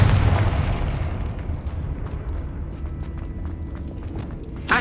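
A Confringo spell exploding in the video game Hogwarts Legacy, a loud booming blast that fades into a rumbling tail with scattered debris crackles, followed by a sharp burst at the end.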